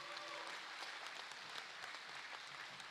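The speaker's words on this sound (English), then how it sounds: "Please give these and all of our Year 10s a round of applause." Applause from a crowd at a school awards and graduation ceremony, steady and continuous, heard from a moderate distance.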